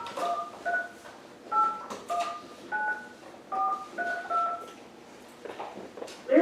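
A telephone keypad is dialed with a series of about nine short two-tone beeps in an uneven rhythm, fairly faint and close over a quiet room background.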